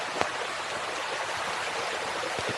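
Stream water running high through countryside farmland in the Philippines, a constant close rushing wash with a faint spatter now and then and no voices.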